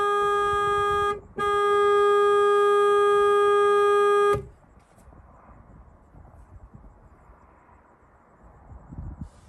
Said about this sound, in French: Le klaxon il est bien éclaté